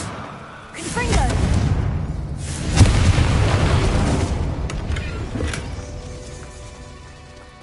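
A Confringo spell blast in Hogwarts Legacy erupts after a brief whoosh into a heavy, rumbling explosion, then a long decaying roar that slowly fades.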